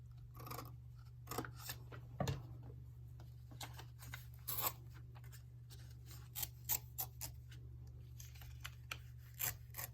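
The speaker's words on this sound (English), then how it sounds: "So I'm cutting to that corner where the two folds were." Scissors snip paper for a handmade customized envelope, cutting toward a fold corner in a run of short, crisp, irregular cuts, close and moderately quiet over a steady low hum.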